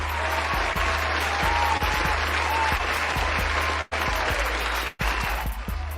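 Steady, dense applause rolls on over a low, constant hum, broken by two abrupt momentary dropouts.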